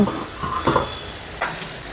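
Stuffed eggplant masala frying in oil in a pan, a soft steady sizzle with a few stirring scrapes, close and moderately loud, no talking.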